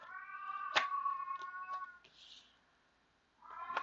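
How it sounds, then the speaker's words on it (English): A pet cat meows loudly and close in a long, drawn-out wail, goes quiet for a moment, then starts another loud meow. "Sorry, my cat is so loud."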